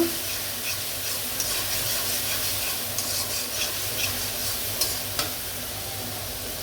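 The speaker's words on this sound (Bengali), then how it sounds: "আর টমাটো দিয়ে দেব। এটা ভেজে নিয়ে তারপর আসবো।" Tomatoes fry in a pan with a steady, close sizzle, joined by occasional scraping stir strokes, continuing without pause.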